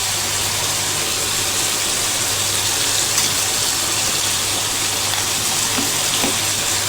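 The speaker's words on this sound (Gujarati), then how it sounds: "આપણે તેને વચ્ચે વચ્ચે આ રીતે હલાવતા રહીશું, એટલે તે તળિયે દાઝી ન જાય" Chopped tomatoes frying in hot oil in a pan for an onion-tomato sabzi, with a steady, loud sizzle and hiss that runs unbroken while the mixture is stirred now and then.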